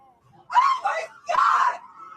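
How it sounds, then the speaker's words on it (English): A woman screams in two loud bursts, the second longer and sustained, with a brief pause between them. The cries come from played video footage and stand alone without other talk. "You can hear a woman screaming, and the same woman appears to scream on more than one clip."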